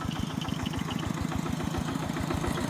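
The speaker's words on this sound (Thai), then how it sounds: "อันน่ะทางรถไถใหม่เป็นการลองครั้งแรก" A new tractor engine on its first trial run, running steadily with a rapid low thumping pulse, loud and close, with no talk over it.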